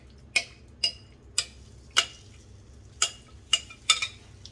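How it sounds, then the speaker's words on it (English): Orange roughy fish searing in olive oil in a hot frying pan: sharp sizzling pops, about seven bursts spaced unevenly over a low steady hiss, with no talking. "We're gonna pan sear the fish."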